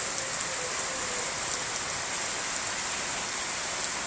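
Rain pours steadily beside a village pond after a downpour, a dense even hiss of drops on surfaces, close and constant with no voices.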